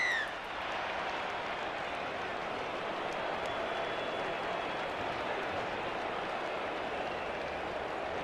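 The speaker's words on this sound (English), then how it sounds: "Crowd settles down again for the 2nd half." Stadium crowd at a rugby league match between the Cowboys and Storm, a steady broad murmur and roar filling the whole stretch at even volume, with a brief whistle-like tone near the start.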